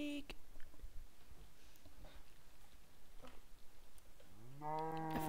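A single drawn-out Minecraft cow moo rises near the end, clear and fairly close, after a stretch of quiet background noise.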